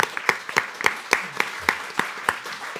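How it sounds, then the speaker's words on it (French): A small studio audience claps for a reporter on a Lyon real-estate television show. The claps are sparse and individually distinct, landing in a loose, regular rhythm close to the microphone. "Applaudissements pour Alexandre Burkhardt qui a tourné ce reportage."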